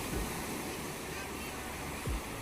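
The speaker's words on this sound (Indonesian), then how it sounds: "Ini yang sebelah sini ombaknya udah mulai agak besar." Ocean waves break on the beach at Clear Water Bay, Hong Kong: a continuous close wash of surf with two heavier low thumps as waves land, with no talk.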